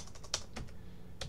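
Typing on a computer keyboard, a few faint, scattered key clicks at an uneven pace in a quiet room.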